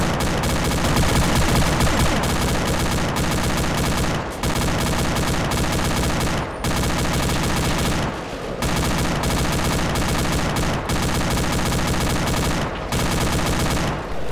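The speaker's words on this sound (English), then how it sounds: "MGs are, enemy MGs are engaging the CRCs." Sustained automatic gunfire in ArmA 2, enemy machine guns firing in dense, continuous bursts with brief pauses, loud and close throughout.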